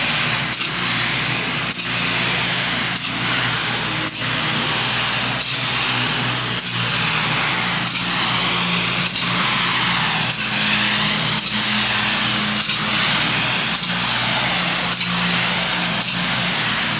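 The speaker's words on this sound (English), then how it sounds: "finally getting some spray foam in the building" Spray foam insulation going onto the walls of a large steel workshop building, a steady loud hiss and engine-like drone running throughout, broken by regular short bursts roughly every second or so.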